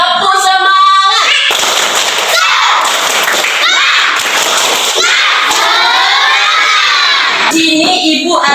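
Third-grade schoolchildren in a classroom do a rhythmic spirit clap and shout together, loud and close, a burst of bright cheering voices with claps mixed in across the whole stretch.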